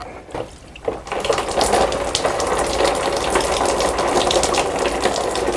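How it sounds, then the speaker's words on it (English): Coolant gushes from a disconnected hose on an Audi Q7 during a water pump replacement, a loud, steady splashing pour that starts after a brief quiet moment and runs on without talk. "Okay, so we're gonna allow coolant to drain just nicely."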